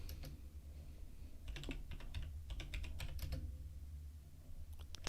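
Typing on a computer keyboard during a live stock-market stream, several close bursts of quick, crisp key clicks separated by pauses, heard alone over a low steady hum.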